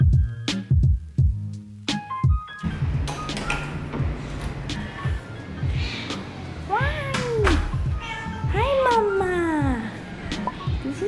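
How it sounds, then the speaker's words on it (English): Hungry shelter cats meowing repeatedly, several rising and falling cries from nearby, mixed with thumps, rattling and clatter at the start and a voice briefly present. "So the cats are most adorable when they first enter because they're hungry."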